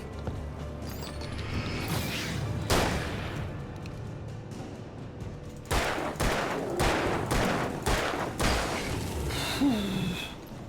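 Gunshots in the video game Alan Wake, a scattered volley of sharp, loud cracks, one heavy blast early on, then a rapid cluster of about six shots in quick succession, over a dense game background.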